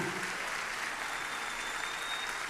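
Congregation at a church symposium applauding the Lord Jesus, a continuous wash of clapping from many people at moderate level, without speech on top.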